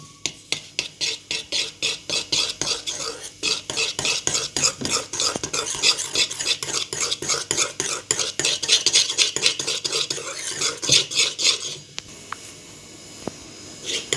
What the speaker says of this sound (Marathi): हे थोडंसं ह्याच्यात पाणी असं ओतायचं आणि मग ते असं हलवून घ्यायचं.